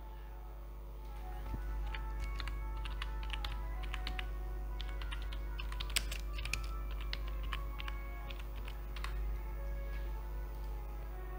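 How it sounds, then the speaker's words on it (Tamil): Typing on a computer keyboard while entering text into a LibreOffice Impress text box, steady bursts of quick light key clicks with occasional louder taps over a low electrical hum, close and without talk. "தென் இதில் ஏதாவது ஒன்று நம்ம டைப் பண்ணிக்கலாம்."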